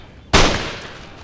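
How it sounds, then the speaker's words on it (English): A musket volley from infantry in the battle game Empire: Total War fires as one sharp, loud crack that decays over about a second, with no other sound nearby. "I want my troops to start shooting as soon as possible."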